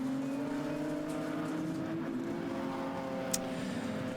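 BMW Car Club race cars roaring around Silverstone, with a steady, loud engine drone and layered harmonics as the cars run side by side for second place, and a brief sharp click near the end.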